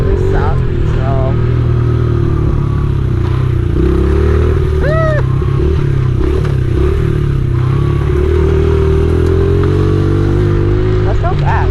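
A Honda XR 70 R pit bike engine buzzes and revs steadily up close while being ridden, with wind rumble and rattling throughout and brief pitch swells as the throttle changes.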